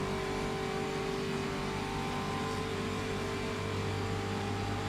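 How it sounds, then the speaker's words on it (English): A race car engine in a racing video game drones at sustained high revs, loud and steady with a constant tonal whine throughout, and no speech over it. "Might hear the engine note change in a second as Jernej lifts off the throttle"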